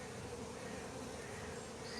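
Honey bees of mixed subspecies buzz at garden beehives in Westcliff, a steady, dense, faint drone with no break and no voices over it.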